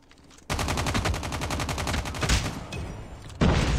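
A BK-57 rifle fires a rapid, steady automatic burst in Call of Duty Mobile, loud and close, running for about three seconds before a brief pause and another sharp shot.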